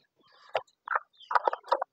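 Egg-laying hens vocalise while being given feed, a short series of close, moderately loud clucking calls in three bursts with brief gaps, no talking.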